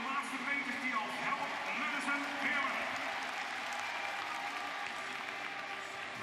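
Spectators at the ISU Speed Skating World Championships in Heerenveen cheer and applaud in a continuous, distant roar as a skater finishes, while a commentator talks over it.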